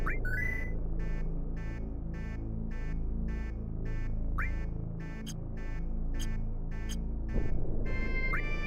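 Repeating electronic beeps from the video game Final Fantasy VII, steady evenly spaced tones over a loud background of game music with occasional short chirps, no talk.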